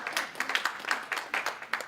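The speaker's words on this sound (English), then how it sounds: "Round of applause for David." Sparse, light applause from a small audience at a real estate networking club event, individual claps distinct and fairly quiet over a short stretch.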